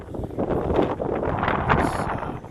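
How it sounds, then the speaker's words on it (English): Blustery wind in the coastal town of Stavern, Norway, on a windy April day, a loud continuous rushing roar that buffets the microphone in uneven gusts. "It's quite a windy day."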